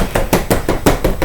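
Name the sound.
mixing strawberry shortcake sugar liquid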